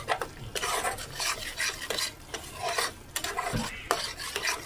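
Fish curry masala stirred in oil in a pan, a spoon scraping and clinking against the metal in quick irregular strokes over a low sizzle, close with no voices.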